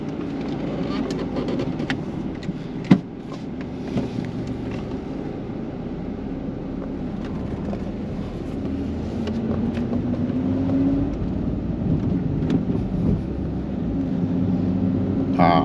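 A car drives along a road near an abandoned old town in Durian Tawar, Bera, Pahang, its steady engine and road noise continuous throughout with a brief bump partway through and someone talking over it.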